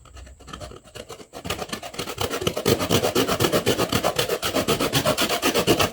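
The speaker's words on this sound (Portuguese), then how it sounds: "E serramos, olha só." A hand saw cuts through a dried gourd near its stem to make a berimbau, with quick, even rasping strokes that start hesitantly and then settle into a fast, loud, close rhythm.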